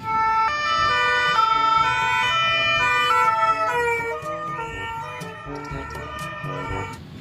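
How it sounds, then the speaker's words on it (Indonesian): A toy ambulance siren wails steadily, electronic and fairly loud, for about seven seconds, sounding on its own with no voices and sliding somewhat lower toward the end. "ambulans."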